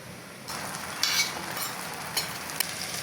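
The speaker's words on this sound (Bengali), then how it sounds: "মশলাটাকে এখন আমি খুব সুন্দরভাবে ফ্রাই করব" Spices and chopped onion frying in a pan for a chicken dish, a dense hiss that jumps up suddenly and keeps crackling, with a few sharp scrapes of a spoon stirring.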